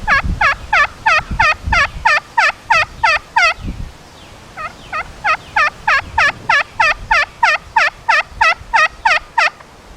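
A hen turkey yelp imitated on a friction call worked with a striker: a rapid, evenly paced run of sharp, loud yelps, a brief pause with a couple of softer notes, then a second steady run.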